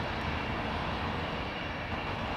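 Boeing 767 airliner at London Heathrow Airport, a steady loud jet engine roar filling the whole moment with no breaks.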